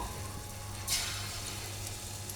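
Chicken pieces fry in oil with a steady, even hiss over a low hum and one brief louder burst of sizzle.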